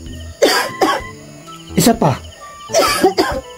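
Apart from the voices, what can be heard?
person coughing on request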